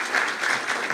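A forum audience at a book launch gives a brief burst of steady, dense clapping that holds at a moderate level throughout.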